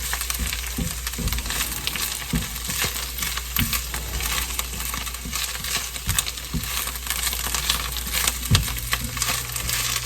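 Spinach, turnip greens and mixed greens wilt in a pan on an electric stove. A steady close hiss and sizzle is punctuated by occasional light clinks and crackles, with no talking.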